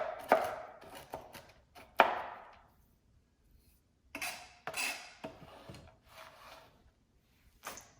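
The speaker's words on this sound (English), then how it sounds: "I'm taking half a cup of pecans and I'm going to coarsely chop them up" Pecans being coarsely chopped with a knife on a board, several uneven bursts of rapid chopping taps separated by short pauses, close and crisp without speech.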